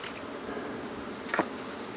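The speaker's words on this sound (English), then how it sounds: "this hive's got a lot of bees in it" Honey bees swarm over an opened beehive during an inspection, producing a steady, dense buzzing drone with one brief, louder close pass near the end.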